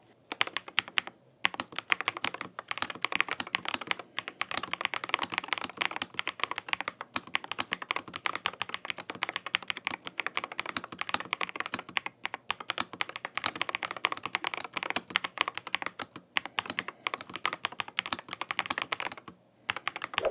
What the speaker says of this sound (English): let's do the most interesting part of any mechanical keyboard review. Let's do a sound test.